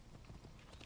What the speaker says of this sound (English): You gotta wait for the horse to get right up to you.